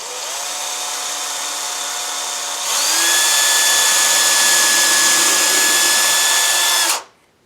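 A power drill bores through sheetrock into a stud beside a window frame during a blind installation, a steady close whine that steps up in pitch and loudness about midway, then cuts off sharply near the end.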